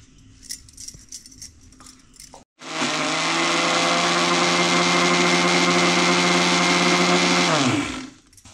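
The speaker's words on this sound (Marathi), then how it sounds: "ह्याला आता आपल्याला पूर्ण मिक्सरमध्ये बारीक करून घ्यायचे आहे।" A kitchen mixer grinder whirs loud and steady as it grinds bread into crumbs, starting abruptly after some quiet handling noises and running for about five seconds before winding down.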